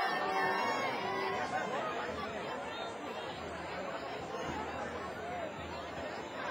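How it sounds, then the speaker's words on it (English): Dense crowd chatter fills the stands at a Friday night high school football rivalry game, Rockville versus Richard Montgomery, a steady unbroken babble of many voices heard from within the crowd. "Great crowd for Friday night football."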